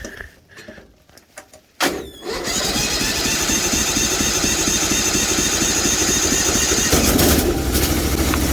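A Briggs & Stratton 20 HP V-twin on a Bolens Hydro Eliminator lawn tractor cranks for a couple of seconds, then fires and settles into a loud, steady, close-up run.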